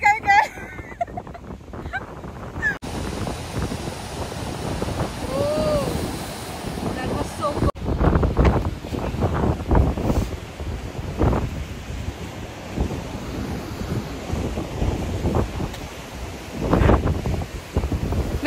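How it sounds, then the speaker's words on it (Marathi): Strong gusty wind outdoors, buffeting the microphone in loud rumbling bursts throughout, while someone talks over it. "आज वारा इतका आहे ना"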